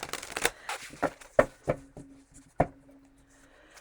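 Close, irregular bursts of tarot cards being shuffled, crisp riffling snaps and soft rustles with short pauses between, no voices.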